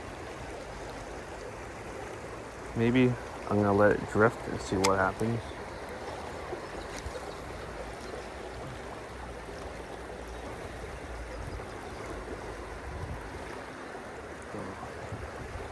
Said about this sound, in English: It's fast-paced water here.